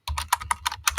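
Rapid typing on a computer keyboard, a quick run of close, crisp key clicks lasting about a second, with no voices.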